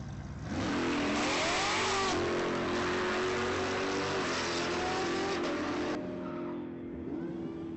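Supercharged Hemi race car at Sonoma Raceway during drift and drag events, engine loud and close, revving hard and holding a sustained roar with rising pitch sweeps before cutting off near the end.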